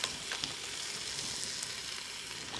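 A spoonful of tomato paste hits hot oil in a pan with onions for Saudi kabsa and is stirred quickly, giving a steady close sizzle with a few light scraping clicks and no voices.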